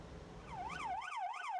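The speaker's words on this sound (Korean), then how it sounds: "사이렌을 울리며 출동하는 소방차" A fire truck on an emergency run sounds its siren in a rising and falling wail that cycles quickly, clear and fairly close, over low engine and road rumble.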